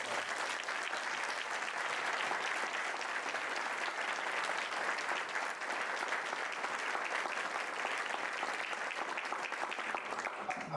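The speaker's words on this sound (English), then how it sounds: "Can we just please take a minute and give them a round of applause?" A room full of people applauding at a school district candidate forum, a steady, even wash of clapping that stays constant for about ten seconds with no talk over it.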